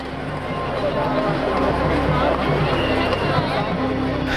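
A dense crowd of devotees packs a shrine where a samadhi is visited, and the hubbub of massed voices and shuffling stays steady and loud from start to finish, with no single voice standing out.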